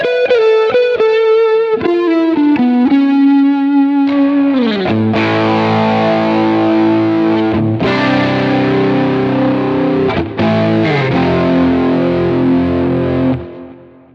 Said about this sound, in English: I've got a chorus here as well